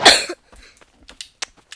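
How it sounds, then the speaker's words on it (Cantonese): A sudden burst of coughing up front during Blox Fruits gameplay, followed by a few short, sharp sounds and scattered quiet noises. "突然咳嗽。"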